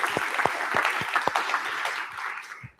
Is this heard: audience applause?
yes